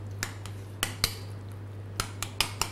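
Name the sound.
mixing crab, mayonnaise and tomato in a bowl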